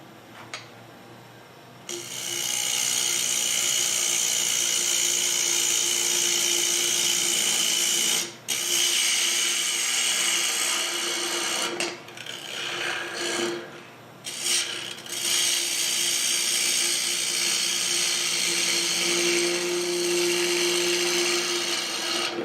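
Wood lathe spinning at about 2,000 RPM while a tool trues up the face of a wooden bowl, a loud continuous scraping hiss broken by a few short pauses, close and alone.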